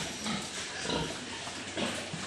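Pigs grunt and snuffle in a farm pen, with several low, rough oinks spread over a couple of seconds against a busy background.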